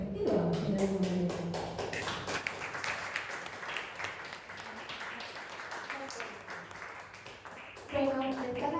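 An audience at a political breakfast gathering on the Malvinas breaks into sustained applause, a dense patter of many hands clapping for several seconds. A speaker's voice is heard before and after it.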